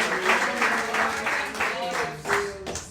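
A church congregation claps in praise during a service, a rhythmic wash of many hands heard together with a speaking voice over it.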